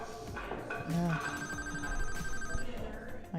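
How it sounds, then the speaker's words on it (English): A telephone rings at a 9-ball pool finals match, a clear electronic ring repeating for several seconds, with commentators talking underneath. "Lou's got a phone call"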